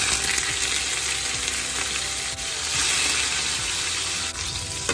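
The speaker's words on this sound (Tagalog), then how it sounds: "Mainit ng ating kawali. Ilagyan po natin yan na cooking oil." Food fries in hot cooking oil in a kawali over medium heat, giving a loud, dense, continuous sizzle with a couple of faint brief ticks and no voices.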